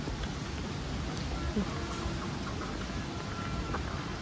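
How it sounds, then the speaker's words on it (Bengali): Rain falling outdoors at a beach resort near Colva Beach in South Goa, a steady broadband hiss of rainfall filling the scene at even, moderate level with no distinct drops. "আমি পুরো ভিজে যাচ্ছি বৃষ্টির মধ্যে।"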